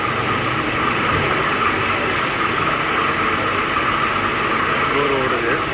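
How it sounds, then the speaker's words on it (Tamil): A CNC lathe runs a boring operation, a steady loud machine hum with a constant high whine and a faint shifting tone near the end, continuous and close, with no clear talk. "போர் ஓடுது."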